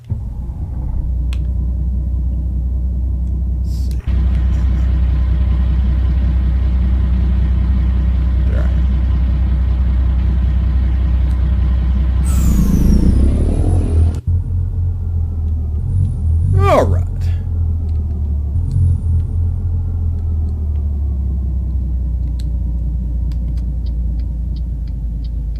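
A truck engine in Euro Truck Simulator 2 rumbles steadily as the vehicle drives, with a deep continuous drone, a brief hiss and clunk midway, then the engine settling back into a lower rumble.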